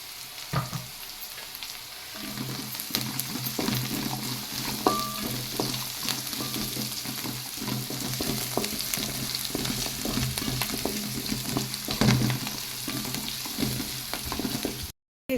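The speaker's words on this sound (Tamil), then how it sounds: "பூண்டையும் போட்டுடலாம்" Garlic frying with onions in a pan for a tomato kuzhambu, a loud, continuous sizzle close by with repeated stirring scrapes and spoon clatter throughout.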